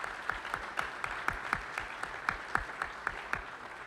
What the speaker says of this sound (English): please join me in a round of applause to thank Mike Corbat and the great folks at Citi